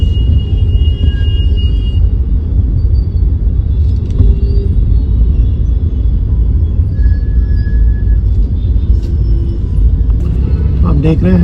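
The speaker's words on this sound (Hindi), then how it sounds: "देख रहे हैं हैदराबाद का ट्रैफिक" Busy road traffic in HiTech City, Hyderabad, heard from inside a car: a constant low engine and road rumble with occasional faint horns and brake hisses, while someone talks over it.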